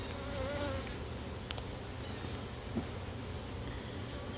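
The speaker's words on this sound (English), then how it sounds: "And a lot more bees." Honey bees at a hive buzz close by in a steady, busy drone, and single bees whine past now and then.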